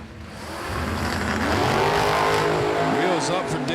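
Drag race cars launching off the line at a US 13 dragway anniversary event, one of them a Dodge wagon; loud, sustained engine roar building and holding with tire chirps, a race announcer talking over it.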